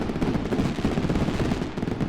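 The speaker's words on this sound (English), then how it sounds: "Wow, that's a lot of fireworks." Dense crackling bursts of a fireworks sound effect from a stream alert fire in a rapid, continuous barrage, loud and close, with no talking.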